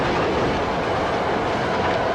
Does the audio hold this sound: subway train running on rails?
yes